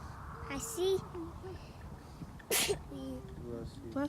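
A toddler sneezes twice, sharp bursts a couple of seconds apart, close by on a road trip, with a child's and an adult's voices talking around them.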